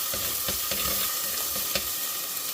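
Garlic, ginger, shallots and fenugreek seeds fry in oil in a home kitchen, a soft continuous sizzle punctuated by a quick, regular run of stirring taps and scrapes.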